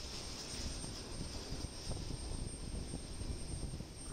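A Boeing 737 starts its takeoff roll at Itami airport, bound for Sendai, a broad steady jet roar with a high whine on top, heard from a distance and slightly buffeted by wind.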